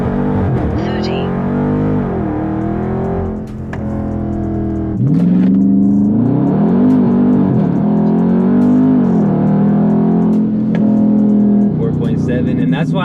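A Dodge Charger 392 Scat Pack rumbles at a held 1500 rpm in track mode, then launches. The loud V8 surges and climbs through several gear shifts, each marked by a brief dip before the engine pulls again, heard from the cabin.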